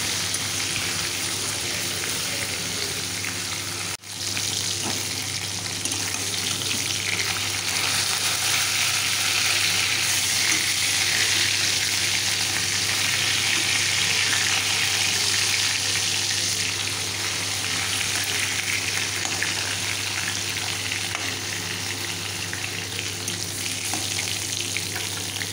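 Tilapia fish pieces frying in hot oil for a Bengali fish curry, a loud, continuous dense sizzle like heavy rain, steady throughout with a brief dip near the start, no voices.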